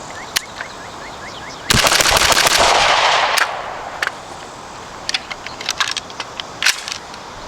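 Rifle fitted with a tuned, tunable 24x1.5mm muzzle brake fires outdoors: a single loud, sharp report followed by a long rolling echo, then scattered faint clicks and distant pops.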